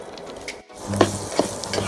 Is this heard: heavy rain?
no